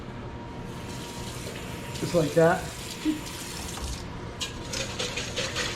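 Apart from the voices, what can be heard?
water being poured into hollandaise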